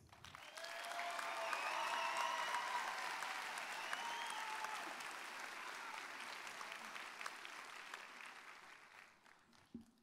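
Applause from the crowd at a college graduation ceremony, heard after a speaker is introduced. It swells into a sustained, fairly distant round of clapping and tapers off over about ten seconds.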